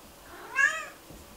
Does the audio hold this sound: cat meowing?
yes